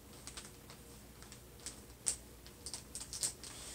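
A Sharpie marker writing a label by hand, heard as faint, close, scratchy strokes and small squeaks in short irregular bursts against a quiet room.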